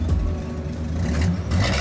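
Close, steady low rumble from the engine of a 1968 Chevy C20 pickup, running alone without talk and swelling slightly at the end.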